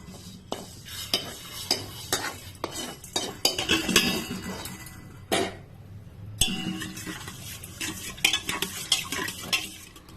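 Moong dal and rice are stirred together in a metal pot, with a spoon scraping and clinking in quick, uneven strokes and a brief pause midway.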